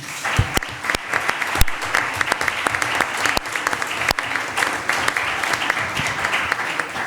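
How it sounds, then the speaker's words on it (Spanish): A conference audience of political attendees in Spain gives a long round of applause, dense and continuous, with a few sharp louder claps standing out from the steady crowd clapping. "a los que les pido un gran aplauso"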